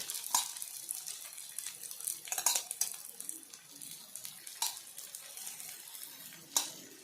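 Ragi adai frying in a little oil on a pan, giving a faint, steady sizzle broken by a few brief crackling bursts, with no talk.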